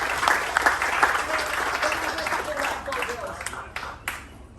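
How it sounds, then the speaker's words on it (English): An audience gives a round of applause for the players at a coaching session, clapping that swells at the start and then thins out, with a voice speaking over the tail. "All right, a little round of applause for these guys, please."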